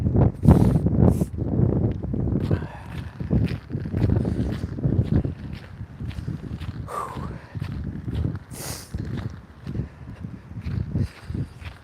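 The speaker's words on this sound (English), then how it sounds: "the wind is starting to pick up." Gusty wind sweeps across an open outdoor spot, a broad rushing and buffeting noise that rises and falls over nearby crunching footsteps and rustling.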